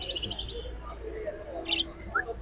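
Caged birds at a Bangladeshi bird market chirp in short bright bursts over a steady crowd murmur, with a couple of sharper calls standing out near the end.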